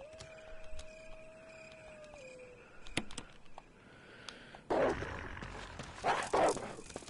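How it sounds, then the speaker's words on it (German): Zombie dogs in the video game Resident Evil give short snarls and growling bursts at moderate loudness, mixed with game effects and a sustained tone early on. "Geh weg, Hund. Oh Mann, da ist der zweite."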